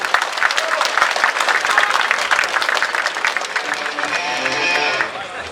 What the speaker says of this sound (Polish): Wielkie brawa dla, dla Państwa właśnie. Wielkie brawa.